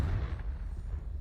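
A Confringo spell blast in Hogwarts Legacy, a deep booming burst that rumbles low and fades over about a second, heavy and muffled rather than sharp.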